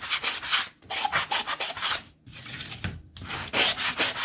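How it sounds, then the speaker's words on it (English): Rhythmic scratchy strokes of a sanding block rubbing back and forth on canvas edges, close and fairly loud, with brief pauses between passes. "I'm going to sand this down just a little bit"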